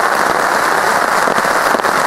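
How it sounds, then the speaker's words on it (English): Steady heavy rain pours down outdoors at a wet campsite, a dense, constant hiss of drops striking surfaces with no breaks, close and loud throughout. "We'll have to see if the rain abates a bit in a few hours."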